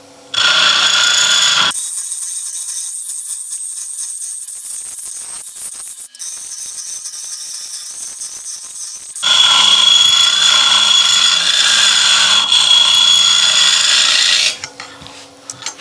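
A woodturning lathe hollowing out an open vase, with loud, close scraping and whining cuts from the tool in long continuous runs and a quieter spell between them, with no talk.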